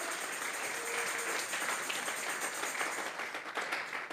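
A church congregation claps as an offering of praise during a sermon, giving a steady, fairly faint patter of many hands throughout with no talk over it.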